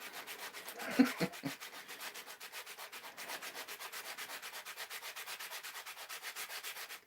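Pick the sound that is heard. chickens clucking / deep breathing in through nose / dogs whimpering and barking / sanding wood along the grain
sanding wood along the grain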